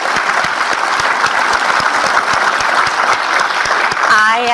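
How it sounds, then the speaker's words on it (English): Conference audience giving a big round of applause after two panel sessions, loud and continuous crowd clapping from start to finish, with a voice breaking in at the very end. "How about a big round of applause for the two panels?"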